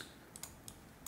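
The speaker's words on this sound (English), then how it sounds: "I'm going to type in 90" A few light computer keyboard keystrokes, faint and spaced apart, tap over a steady background hiss while a tiny house is modelled in SketchUp.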